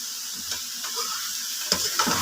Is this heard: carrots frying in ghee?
yes